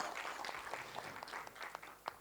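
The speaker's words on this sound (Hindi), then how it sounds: "एक बार जोरदार तालियां फॉर दिस स्पेशल ओकेजन।" A crowd at a Bollywood song launch media event breaks into applause, a dense and fairly faint patter of many hands clapping with a few sharper claps standing out.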